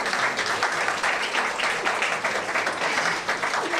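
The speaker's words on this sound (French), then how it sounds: "Vous pouvez vraiment l'applaudir" Steady applause from an audience fills the whole stretch, dense and continuous with no individual claps standing out.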